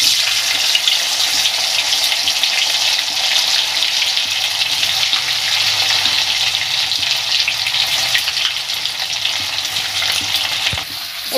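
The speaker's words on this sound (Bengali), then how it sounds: "আর কড়াতে সাদা তেল বসিয়ে দিয়েছি, এবার পনিরগুলো ভেজে নেব।" Paneer pieces frying in white oil in a kadai, a steady bright sizzle running throughout, close and loud, with faint stirring and water-like crackle underneath and no talking.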